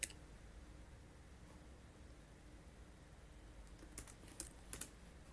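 Quiet keystrokes on a computer keyboard, a faint run of tapping that ends in a few sharper clicks like an enter key being pressed, alone without speech.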